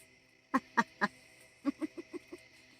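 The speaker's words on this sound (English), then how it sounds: "there's that bird again" A duck calls close by: three loud quacks in quick succession, a short pause, then a run of five softer, evenly spaced quacks, over a faint hum.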